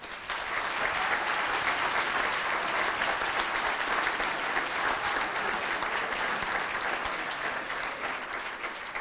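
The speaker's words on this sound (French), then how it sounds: "on peut les applaudir." Audience applause at a French gala event honoring chef Michel Troisgros, a steady, dense clapping from a large crowd that stays loud and even from start to finish.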